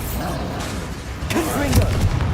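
A Bombarda blasting spell in Hogwarts Legacy sets off thudding, booming explosions within steady combat noise, close and fairly loud, with voices in the mix.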